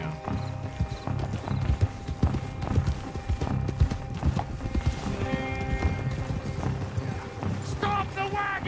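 Horse-drawn wagon in Red Dead Redemption 2, steady clip-clop of hooves with rattling wheels and a brief whinny near the end, voices talking over the rolling hoofbeats.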